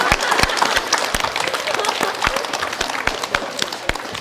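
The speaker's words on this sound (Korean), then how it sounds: "오늘 박수 너무 많이 받습니다." Studio audience applause on a 1994 KBS broadcast music talk show, a dense, steady patter of many hands with sharper individual claps standing out over about four seconds.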